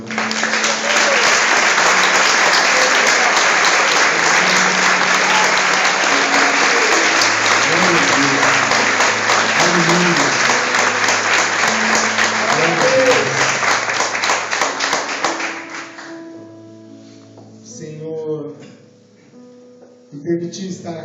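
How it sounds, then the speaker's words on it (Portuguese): A church congregation at a Portuguese-language service claps loudly and steadily for about fifteen seconds over low sustained tones, then the applause fades away and the tones carry on alone. "Gostaria muito que você aplaudisse o Senhor agora."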